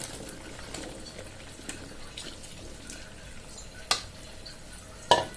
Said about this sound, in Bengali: এবার আমি কেটে ধুয়ে রাখা কচুরলতিগুলো দিয়ে দিচ্ছি।